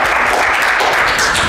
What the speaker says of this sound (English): I hate to interrupt your applause